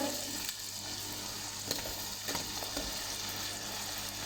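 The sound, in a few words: vegetables frying in a pan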